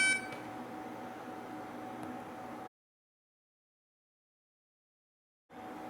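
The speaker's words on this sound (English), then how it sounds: "The entry tone and timer will then start, so you walk to your keypad and enter your 4-digit code." Texecom Premier alarm keypad sounding its entry tone, a steady electronic tone held for a few seconds, then a pause of silence before it resumes.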